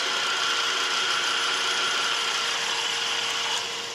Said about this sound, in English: get this sealed up on the can sealer